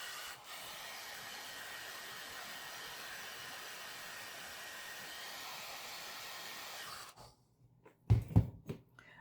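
A small dryer blows steadily for about seven seconds, drying paint on a painted eye in a Christmas craft. The whoosh is fairly close and even, then it cuts off, followed by a few soft handling knocks.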